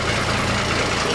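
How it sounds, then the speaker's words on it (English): A tow truck engine fitted with a JDM exhaust idles close by, giving a loud, steady low rumble with no break over a brief moment. "all I hear is engine"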